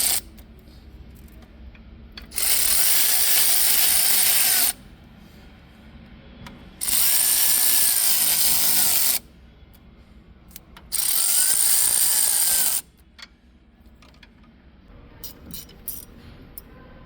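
Three bursts of a power tool, each about two seconds, drive bolts into the transmission case of a Raymond 770-R45TT forklift, loud and close with quiet gaps between.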